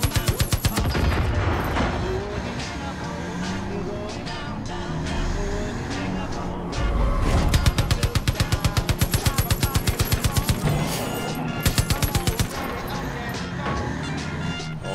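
Rapid automatic gunfire in Far Cry 5 hammers out in dense, loud rhythmic bursts over music and game noise, with some quieter stretches between volleys.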